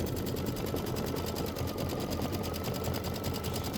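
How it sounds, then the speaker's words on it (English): An embroidery machine stitching a decorative outline around poinsettia designs, a loud, continuous rapid needle chatter and motor whir that holds steady throughout with no voices. "So it's going to do the decorative stitch around the outside of all the poinsettias."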